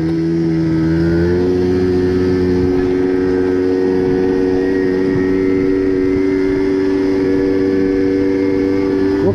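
A small scooter engine drones loudly and steadily at a high, constant pitch, held at full throttle at about 30 to 35 km/h throughout without easing off.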